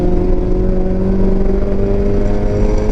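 A loud, steady engine drone with strong humming tones from a Honda K-series engine in a Mazda Miata on track at Road Atlanta, held at a constant high pitch and close up, with no talking.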